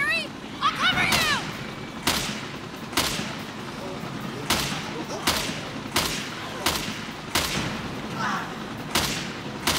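Gunfire from shooting in Resident Evil Revelations 2 rings out as a run of loud, evenly spaced shots over a constant game background, while a player talks over it.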